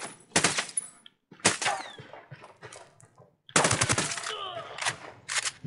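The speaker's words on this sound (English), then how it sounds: "These gunshots, man, they look like they're coming from like in like buildings and shit." Machine gun fire in the tactical shooter Ghost Recon Wildlands rings out in loud, sharp bursts separated by brief pauses, with scattered echoing shots between the volleys.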